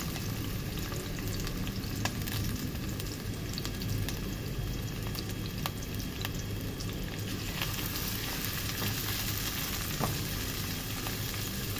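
A large chopped onion fries in oil for mutton kaleji, a steady close crackling sizzle throughout with small sputters and pops and no talking.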